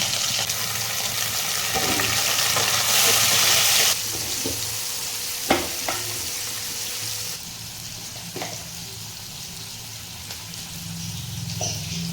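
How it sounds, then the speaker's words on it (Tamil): Seer fish frying in a pan sizzles loudly at first, then settles into a quieter, steady crackle with occasional clinks from the pan. "மீனை பொரிச்சாச்சு."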